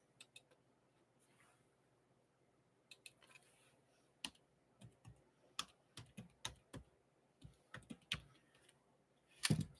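Keys clack on a computer keyboard in scattered taps and short quick runs, close and fairly quiet, with a louder cluster at the end and no talking.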